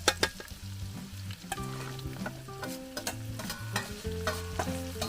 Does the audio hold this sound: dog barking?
no